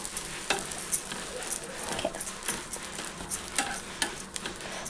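Potato omelette frying in a pan, a continuous close sizzle crackling with frequent small pops and ticks throughout, no voices.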